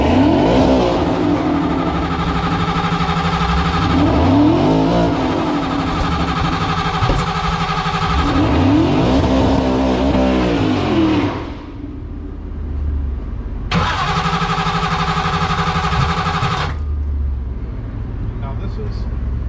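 A drag race street car engine, loud and close, revving hard in repeated rising sweeps over a rough idle, then cutting off abruptly and briefly firing again before going quiet.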